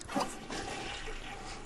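A flushing toilet in The Sims 3 gives a short, steady rush of water with a brief louder surge at the start, fairly close and alone, with no voices over it.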